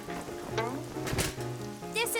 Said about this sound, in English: Rain? Oh no, Grandma's cake is going to get ruined.